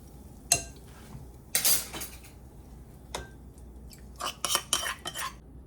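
A metal utensil mixes tempering into broccoli dal in a pot, with scattered clinks and scrapes: a few isolated knocks, then a quick cluster of clatters near the end, all fairly quiet.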